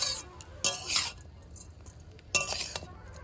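A utensil scrapes and clinks against a pan while raw papaya and sugar are stirred over the heat, two sharp strokes with quieter scraping and a faint sizzle between them.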